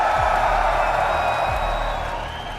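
A large arena crowd at an esports event roars for Team Vitality, a dense, sustained wash of cheering and whooping that fades slightly toward the end.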